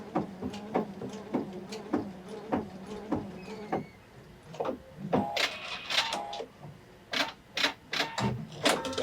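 A PFAFF sewing machine stitches in quick bursts of rapid mechanical ticking, then whirs and clicks as its automatic thread cutter trims the thread, the bursts close and moderately quiet with pauses between them.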